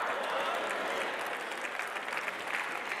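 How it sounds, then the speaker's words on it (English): Church congregation clapping during a sermon, a steady, fairly close wash of many hands with no pause. "Y'all stop clapping."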